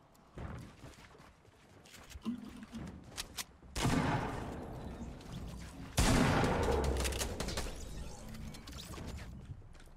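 Gunfire in Fortnite Battle Royale during a duo Summer Skirmish match, with scattered shots and then two loud, sudden bursts of heavy fire that fade away.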